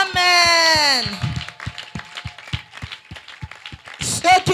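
Church congregation claps in rhythm, a steady run of sharp evenly spaced claps following a sung or called voice, with voices rising again near the end.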